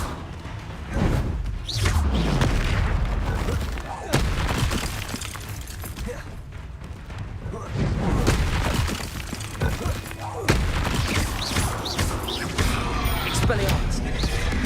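Repeated Confringo explosion spells cast in Hogwarts Legacy, a series of heavy booms and blasts with thudding impacts and debris, alternating with a voice calling out spell names.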